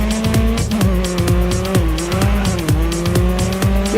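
A race car in the Grid Autosport video game skids off the track: loud engine revving with repeated gear shifts and screeching tires, a continuous close roar throughout.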